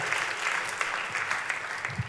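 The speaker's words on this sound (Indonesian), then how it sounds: "Tepuk tangannya boleh yang paling meriah buat Tuhan kita." A church congregation claps together in sustained, steady applause at moderate distance, with a few sharper individual claps standing out and no voices over it.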